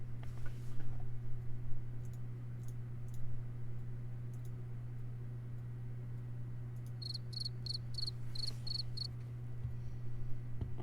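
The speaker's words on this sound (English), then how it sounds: "Man, those crickets are loud." Crickets chirp in repeated short trills, fairly close, over a steady low hum, with faint clicks scattered through the quieter stretches.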